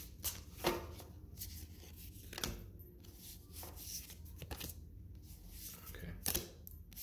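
Cards are shuffled and riffled in quick bursts up close, with soft taps and slides between shuffles and no talking.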